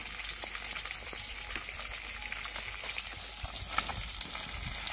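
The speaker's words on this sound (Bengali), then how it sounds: "মাছগুলো ভাজা চলছে।" Fish fry in a pan while cooking on a boat, with a steady soft sizzle and crackle of hot oil and scattered spitting pops, heard close and without talk.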